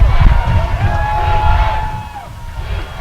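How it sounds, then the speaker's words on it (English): Football crowd at a high school game rising to its feet before a big third down, a steady roar of cheering and shouting throughout, with a stadium announcer's voice talking over it. "The crowd's up on their feet."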